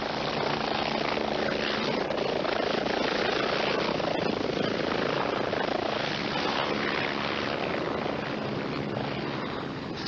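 A rescue helicopter airlifting an injured state trooper to a hospital trauma unit drones steadily throughout, its loud, continuous rotor and engine roar holding even from start to finish with no speech.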